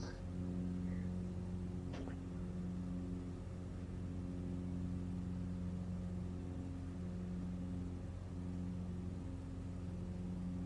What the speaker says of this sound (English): it's kind of boring just listening to engines going